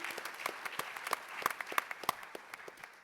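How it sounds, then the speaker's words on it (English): Audience applause for swimmer Mark Spitz at a Qatar and California sports tourism gathering: a small crowd clapping, with sharp individual claps standing out over a soft, steady patter, fairly quiet and somewhat distant. "Let's give him a round of applause."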